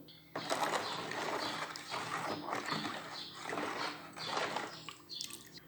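Salt, lemon salt and sugar being stirred into brine water for cabbage pickle, giving a run of close splashing, sloshing and scraping strokes in uneven bursts, with no talk.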